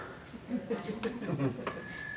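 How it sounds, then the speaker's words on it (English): A bicycle bell rings briefly near the end, a bright metallic ding after some faint murmuring voices and background noise. "we have a bike bell"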